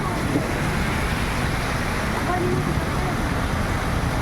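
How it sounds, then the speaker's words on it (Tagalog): Heavy rain pours outdoors in a steady, broadband hiss that stays even throughout, loud and close, with no distinct drops standing out. "naabutan tayo ng malakas na ulan"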